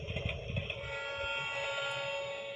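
Titipo toy train playing its sound effects, a steady mechanical rumble with tonal whistle-like electronic tones held across a short stretch, close and moderately loud with no talk.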